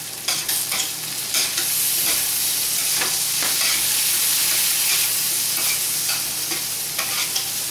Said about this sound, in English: Let me not forget about my stir fry.